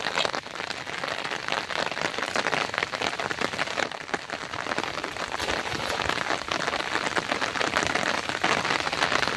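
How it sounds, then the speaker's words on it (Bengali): Rain falls steadily on a river during net fishing, making a dense, continuous hiss and patter of drops on the water surface, close and fairly loud, with no voices. "বৃষ্টি হচ্ছে"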